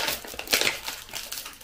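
A double-layered, foil-lined food packet being handled at a mukbang meal, with sharp crinkling and crumpling bursts close by, loudest in the middle and then continuing in smaller rustles.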